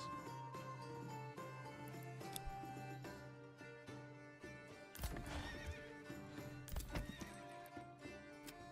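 Horse neighs and clip-clopping hooves in the medieval city-building game Manor Lords, heard steadily throughout with game music and ambience beneath, the whinnies loudest near the middle and end.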